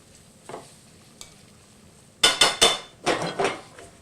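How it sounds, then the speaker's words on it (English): Drained pasta is tossed in a pan with sauce: a few faint clinks at first, then two quick bursts of loud clattering metal scrapes and shuffles, close and without talk. "We'll pop it right in our pan,"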